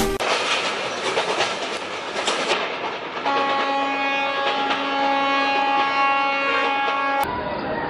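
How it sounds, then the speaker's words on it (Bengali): A train passes close by with loud rumbling and rhythmic clickety-clack of wheels, then a sustained, steady horn tone holds for several seconds before cutting off abruptly. "ট্রেনের আওয়াজ?"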